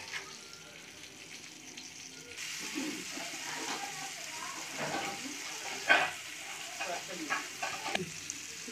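Oil sizzles and crackles steadily as fish fries in a pan, with a few louder spits and faint clatter of a utensil, nearby and continuous.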